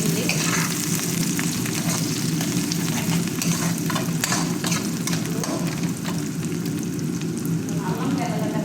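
Chicken curry sizzles and fries steadily in a pan while it is stirred, with continuous crackling and occasional scraping throughout.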